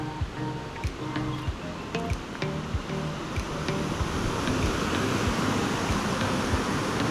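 Fast river water swollen with snow melt rushes beneath a bridge on a mountain road, a loud continuous roaring wash that builds slightly, with a few sharp clicks and knocks early on.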